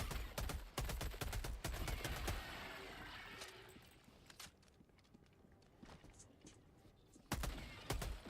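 SMG fire in Helldivers 2 comes as rapid bursts of sharp gunshots, dense at the start and again near the end. Quieter scattered shots and game noise fill the stretch between them.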